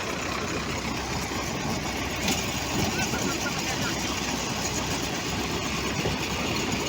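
A combine harvester's heavy engine runs steadily close by, a constant low, rumbling drone with mechanical clatter and no pauses.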